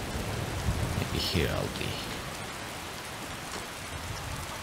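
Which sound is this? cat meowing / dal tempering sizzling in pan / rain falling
rain falling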